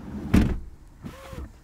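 A BMW iX xDrive50 door shuts with a single solid thud up close, followed by a soft mechanical whir as the frameless window glass moves afterward.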